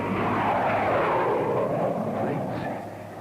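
Low-flying aircraft roaring overhead in an old 16mm film soundtrack, a steady loud rumbling drone that holds through the whole stretch and eases slightly at the end.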